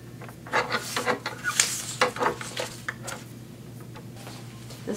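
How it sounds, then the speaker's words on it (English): A rust eraser scrubs along the blade of a guillotine paper cutter, producing a run of close, rasping rubbing strokes in uneven rhythm over steady low hum, with no talking. "This is my rust eraser."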